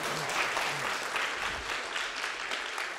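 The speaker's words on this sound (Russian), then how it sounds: "Сейчас глубокие аплодисменты." An audience at a design talk applauds, a steady, moderately distant spread of clapping lasting the whole stretch.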